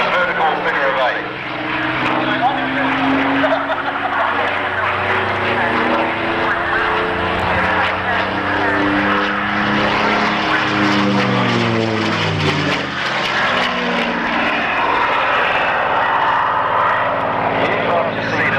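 A warbird propeller airplane painted in Territorial Air Force colours flies a vertical figure-of-eight at the Matamata Airfield air show. The loud, droning engine roar rises and shifts in pitch throughout while a commentator talks over it.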